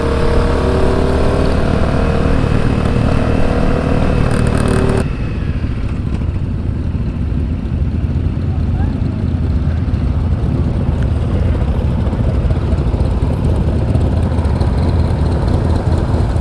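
A Honda CRF250L dual-sport motorcycle being ridden, its engine a steady loud drone with rumbling wind noise throughout, a brief change in tone partway through but no pause.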